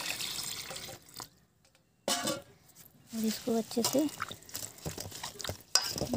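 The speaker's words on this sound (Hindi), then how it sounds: "ये देखिए हमने पानी लिया हुआ है और यहाँ पर मेथी है पानी डाल लेंगे" Water splashes and pours into a bowl of fenugreek leaves in bursts, with a short quiet gap, while a person speaks over it.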